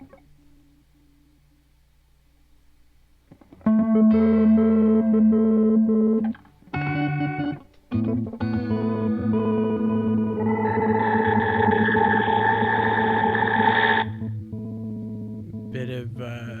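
Guitar run through a Hologram Chroma Console effects pedal, processed notes swelling into a loud sustained oscillating drone with brief cutouts, then fading to a quiet tail.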